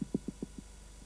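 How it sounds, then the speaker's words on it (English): Soft, low thumps from a mole rat underground, about six in a quick, uneven series, muffled and faint, then quiet. "It makes a thumping sound when it's underground to communicate with other mole rats."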